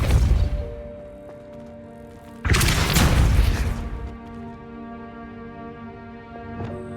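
A Depulso spell cast in Hogwarts Legacy, heard as a sudden loud whooshing blast that swells and fades over about a second, set against a sustained tonal game ambience with a fainter burst near the end.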